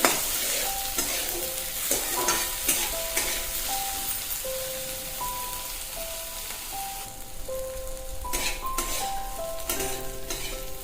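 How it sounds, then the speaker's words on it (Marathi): Tomatoes roasting in a pan until soft, a continuous sizzle with stirring scrapes, while a melodic tone line plays steadily over it. "टोमॅटो चांगलं सॉफ्ट होईपर्यंत भाजून घ्यायचे"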